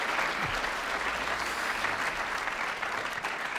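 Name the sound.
audience applause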